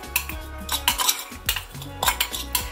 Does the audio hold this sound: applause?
no